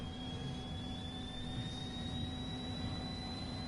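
A faint, steady engine drone from an F1 2021 racing game, with a thin high whine, holds one even tone throughout, with no voices.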